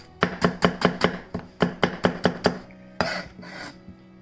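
Onions and garlic are chopped on a board with a kitchen knife: about a dozen crisp, evenly spaced strikes, close and clear, followed by a softer scraping sweep across the board.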